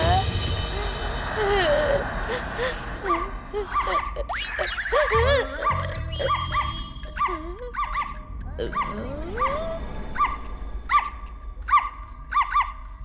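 A voices dog barks, yips and whimpers in a horror comedy film scene, a rapid irregular series of close imitated barks mixed with squeaky vocal sounds and some talk.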